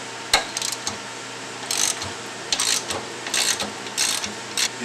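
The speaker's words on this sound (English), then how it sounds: "procedure is to loosen the small perimeter bolts" Small perimeter bolts on a Weasler clutch are loosened evenly around the spring plate with a hand tool, producing a series of short clicking, ratcheting bursts at irregular intervals close by, with no talking.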